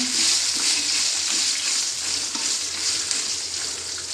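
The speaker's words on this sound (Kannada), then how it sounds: "ಬೆಳ್ಳುಳ್ಳಿ ಚೆನ್ನಾಗಿ ಫ್ರೈ ಮಾಡುವ ಇದನ್ನು" Steady, dense sizzle of garlic and onion frying in hot oil in a clay pot, close and fairly loud, with a continuous crackling hiss and no voices.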